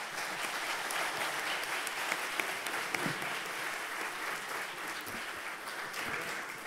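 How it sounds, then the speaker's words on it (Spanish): An audience at a hydrocarbon industry congress session applauds the panelists with a steady, moderately distant round of clapping from a medium-sized crowd that holds even throughout. "para los cinco, un gran aplauso y muchas gracias"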